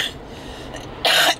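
A single short, harsh cough from someone with a cold, close and alone, following a quiet stretch of room tone.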